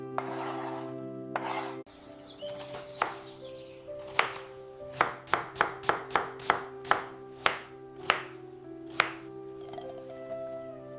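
A knife cuts fruit, including grapes, for a fruit salad on a cutting board, giving a series of sharp, close taps in an uneven then steadier rhythm over soft background music.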